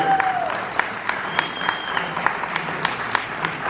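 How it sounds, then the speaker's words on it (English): A room at a Staten Island transportation community forum claps for the NYPD, a moderate, steady round of scattered hand claps with a few sharper individual claps and a faint whistle-like tone mixed in. "let's give the men and women in NYPD a big round of applause"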